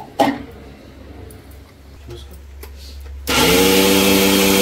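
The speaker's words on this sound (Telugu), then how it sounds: "నానబెట్టుకున్న గసగసాలు, నువ్వులు, పచ్చపప్పు 1 గంట నానబెట్టుకోవాలి. మిక్సీ పట్టుకోవాలి." A mixer grinder grinding soaked poppy seeds, sesame seeds and moong dal kicks on abruptly after quiet kitchen ambience, a loud, steady motor whine with a bright rising hum.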